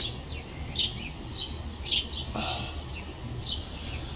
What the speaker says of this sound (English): I just love to sit out here and listen to birds chirping